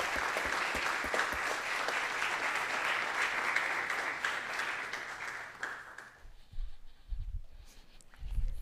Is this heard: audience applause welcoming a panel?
yes